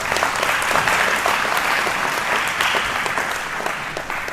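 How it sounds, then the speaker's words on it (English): Audience applause for mothers and parents at an Eagle Scout recognition night: a dense, steady wash of many hands clapping at close range, staying loud throughout and easing off slightly toward the end. "a round of applause for them"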